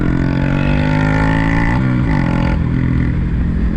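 A car accelerates hard on the MotoGP circuit in a time trial, its engine loud and close throughout as it climbs in pitch, with a brief dip around a gear change partway through.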